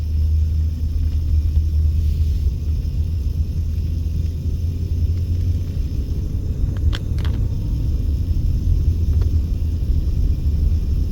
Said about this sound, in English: they've got all this traffic diverted all over the place